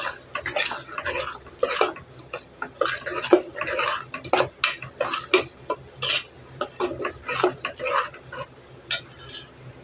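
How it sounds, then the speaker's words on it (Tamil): Masala paste for white chickpea chenna masala being stirred in a pan over low heat, with repeated clinks and scrapes of a spoon against the pan in an irregular rhythm, close and fairly clear with no talk. "சிம்மில் வச்சு கொஞ்சம் பச்சை வடை போக வரைக்கும் நல்லா வதக்கிக்கலாம்"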